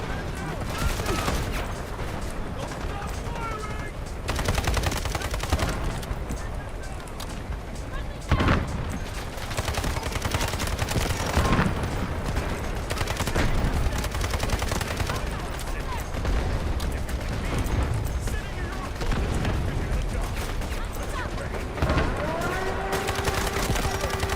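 Gunfire from attacking enemy troops in a video game, continuous and fairly loud: crackling volleys, bursts of automatic fire and occasional booms run throughout beneath frequent talking and game radio voices.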